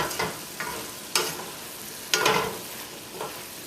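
A spoon stirs cabbage with leftover stewed pork and tomato in a pan, giving a handful of scraping pushes with a low sizzle running underneath, close and moderately loud.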